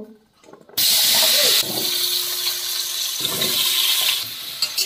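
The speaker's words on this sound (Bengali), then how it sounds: "আমি এই মাছ ভাজার তেলেই আলুগুলো ভালো করে ভেজে নেব।" Potatoes fry in leftover oil from frying a large pangas fish. A sudden loud sizzle bursts in after a brief quiet start and then holds as a steady, close, hissing crackle.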